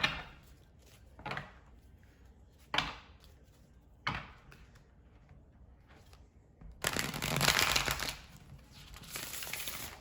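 Several short riffling bursts of cards are separated by pauses, followed by a longer, louder shuffle near the end, close and fairly quiet.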